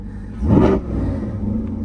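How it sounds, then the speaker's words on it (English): A modded 2021 Chevrolet Corvette C8 engine gives a short, loud rev that swells and falls back within about a second, then settles into a steady, rumbling idle. "a little baby rev for you"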